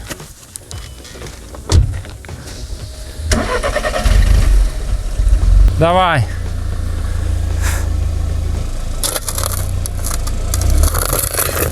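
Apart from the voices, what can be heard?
car starting and driving over shovels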